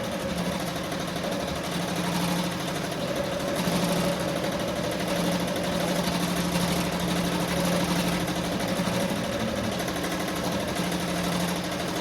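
An embroidery machine stitches a tack-down on fabric for a ruffle-style baby onesie, running with a steady, fast mechanical whir and buzzing needle rhythm, close and continuous with no talking.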